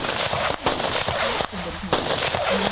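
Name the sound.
tourists firing guns at a shooting range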